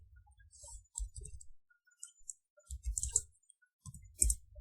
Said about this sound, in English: so here enter name, so I am typing Ashi.